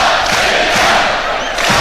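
A football stadium crowd singing at Latvia v Wales in a Euro 2024 qualifier, a dense, loud, continuous roar of massed voices chanting together with a rhythmic pulse, close and filling the space.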